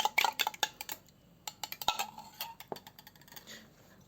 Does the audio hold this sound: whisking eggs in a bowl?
yes